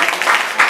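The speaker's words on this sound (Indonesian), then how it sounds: "Tepuk tangan bagi Allah kita." Church congregation clapping during a Sunday worship service, a brief burst of dense, steady applause close by with no voices over it.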